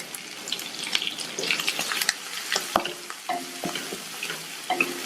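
Onion, green chilli, curry leaves and garlic fry in a pan, giving a steady sizzle broken by scraping stirs and light clinks, close and moderately loud.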